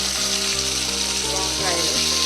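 Ivy gourd pieces fry in oil in a home kitchen, making a bright, steady sizzle that holds even and close, with a faint low hum running underneath.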